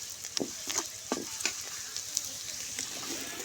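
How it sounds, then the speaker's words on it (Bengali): Garlic frying in a pan, a steady sizzle with sharp crackles and pops at irregular intervals, close and moderately loud, with no talking. "রসুন সুন্দর করে ভাজা ভাজা করে নিচ্ছি"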